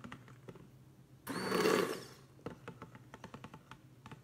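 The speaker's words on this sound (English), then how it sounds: "Immersion blenders are such a great little tool." An immersion blender purées a pot of palak paneer of spinach and paneer in one loud burst of about a second, set between quieter kitchen tapping and clatter.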